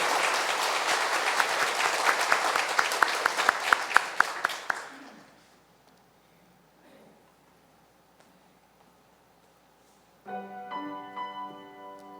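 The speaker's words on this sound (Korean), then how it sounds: "함께 큰 박수로 우리의 마음을 열고 환영할까요?" A church congregation at a Korean Sunday worship service applauds warmly for about five seconds to welcome a special song; the clapping is full and close, then fades into near silence before a piano introduction begins.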